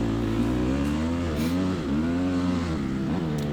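A motorcycle engine revs up and down close by, its pitch rising and dipping in several surges, steady and loud with no voices.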